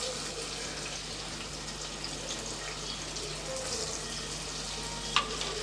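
Chopped large onions sizzle and fry steadily in hot oil in a pan, a continuous close hiss with no talk.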